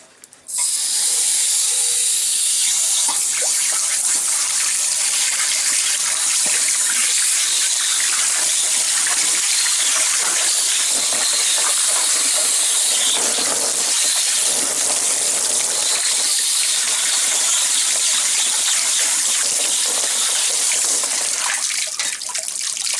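Water gushes and hisses steadily as a flushing wand sprays into the tank of a Suburban SW6DE RV water heater to flush out sediment, a loud continuous rush lasting throughout with no talk.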